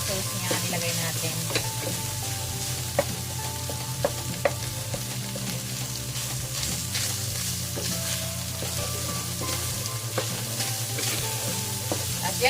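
Ginamay fries in a pan with soy sauce, a steady close sizzle broken by frequent scraping and clinking stir strokes, loud and continuous with no talk.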